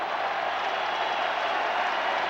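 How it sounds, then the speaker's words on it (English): A large stadium crowd at the seventh game of the 1979 World Series between the Pirates and Orioles, bottom of the eighth with the bases loaded, roars in a steady, dense wash of cheering with no break. "Crowd on its feet."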